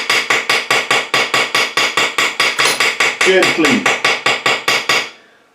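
A hammer taps a metal axle shaft held in a vise fitted with aluminum jaw protection, striking in a steady, even rhythm of about twenty sharp, bright knocks that stop abruptly, with a brief spoken word partway through.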